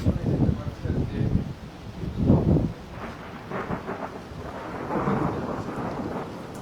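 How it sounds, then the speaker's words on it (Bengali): Deep thunder rolls and rumbles through a rainstorm in Dallas, several loud low bursts rising and fading over steady rain and wind. "মেঘের গর্জন নিশ্চয়ই দর্শক আপনারা শুনতে পাচ্ছেন।"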